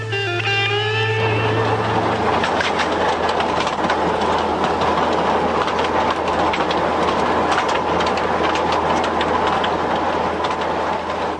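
A passenger train runs steadily on sun-heated rails through rural Russia, a loud continuous rumble with clattering wheels; a horn-like tone sounds at the very start before the rolling noise dominates.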